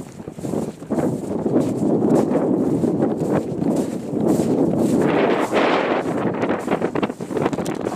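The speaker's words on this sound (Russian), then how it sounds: "Ветер сильно, он будет потом все перебивать. Сплошной ветер будет." Strong wind beside a pond buffets the microphone in loud, continuous gusts with a roaring, rumbling texture throughout.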